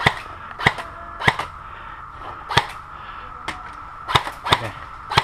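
Airsoft guns fire in an outdoor skirmish game: sharp, snapping single shots at irregular intervals, several close together near the end, over a steady hum of background noise.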